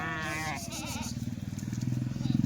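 Kathiawari sheep bleat in a wavering, nasal cry at the start, followed by steady rhythmic mechanical pulsing, like a nearby engine, for the rest.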